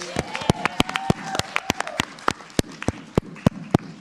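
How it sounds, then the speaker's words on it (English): Council meeting attendees clap in appreciation of the Parks and Recreation Department, a small group producing crisp, irregular claps at close range while voices talk and cheer underneath. "clap for that"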